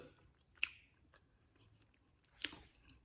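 Soft, close chewing of lemon cake made from boxed cake mix, with two crisp bite-like clicks and quiet mastication in between.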